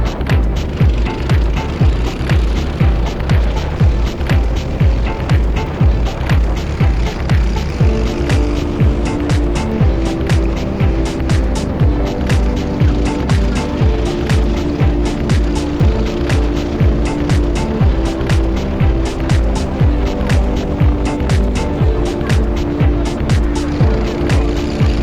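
Racing karts circulate the Fulbeck circuit on a cold, slightly damp day, their small engines droning loud and continuous with a rapid buzzing pulse and rising, falling pitch as they pass close by, with no talk.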